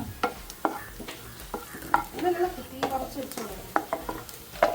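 Coconut stirred as it fries in ghee in a pan, with repeated clicks and scrapes of a spoon against the pan over a soft, steady sizzle, close and moderately loud.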